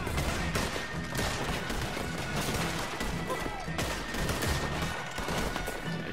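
Gunfire in the Western video game Red Dead Redemption 2 comes as loud, dense volleys of rapid shots, with sharper bursts standing out against continuous clatter.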